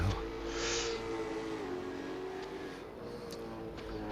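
V8 race cars lapping Oran Park in a sim racing game, a continuous engine drone with a rising rev early on, steady and moderately quiet in the background.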